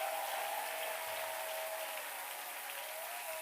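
A church congregation applauds its choir during a Sunday worship service, with steady, dense clapping sustained at an even level throughout, fairly distant and without any voices on top.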